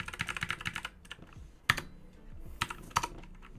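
Computer keyboard typing during web development work, a rapid run of close clicking keystrokes, then a pause and a few scattered sharper key presses.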